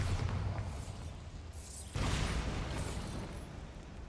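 A Bombarda blasting spell in Hogwarts Legacy erupts midway as a sudden, sharp burst over a low ambient rumble, followed by a swishing tail that fades out.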